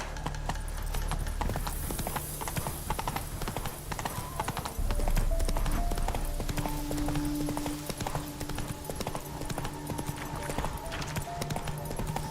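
Roach the horse trots in The Witcher 3: Wild Hunt, hooves clip-clopping in a steady rhythm throughout, with a brief neigh and game ambience beneath.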